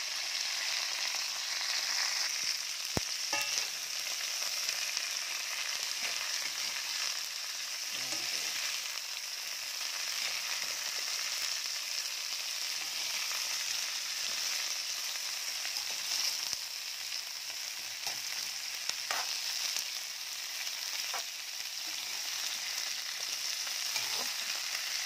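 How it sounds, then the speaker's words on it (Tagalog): Pumpkin and string beans frying and being stirred in a pan for ginataan, giving a steady, even sizzle with occasional faint scrapes and clicks, close and unbroken throughout. "Susunod ko yung mga gulay natin guys. At ating haluin."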